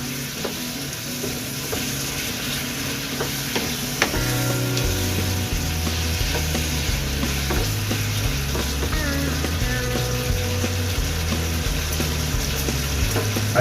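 Tilapia frying in plenty of oil in a home kitchen, a steady loud sizzle and crackle that continues throughout, with occasional clinks and pops over it.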